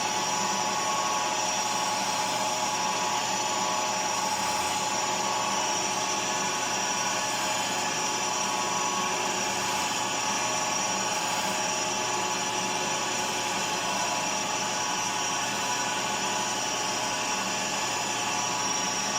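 A steady, loud mechanical whir of a carbide center drill cutting into a bolt head, with a high whine and constant grinding noise and no pauses.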